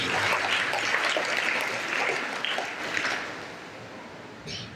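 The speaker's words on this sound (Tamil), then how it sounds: "கைத்தட்டி வாழ்த்துக்களை" Congregation applause at a church feast-day celebration of Saint Joseph, a thick, sustained clapping from a crowd that holds steady and then tapers off near the end.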